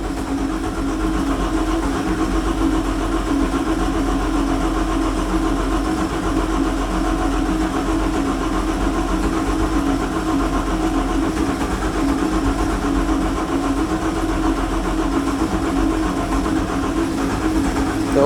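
ZIL truck engine fitted with a tractor motor running after it starts, a loud, close, steady rumbling idle that continues unchanged throughout.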